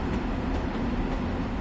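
A Long Island Rail Road train in the Train Sim World video game runs with a steady, dense rumble and rolling noise throughout a short stretch, loud and unbroken, no voices.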